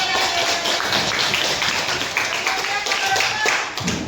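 Students in a high school chemistry class clap their hands together in a quick, dense patter of claps, lively and continuous for a few seconds, with faint voices underneath.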